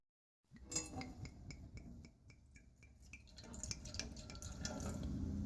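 Wine pours into a small cooking pot, a liquid trickle with light dripping and a few glassy clinks, steady and close, growing fuller toward the end.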